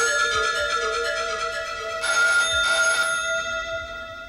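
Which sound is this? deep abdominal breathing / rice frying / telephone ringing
telephone ringing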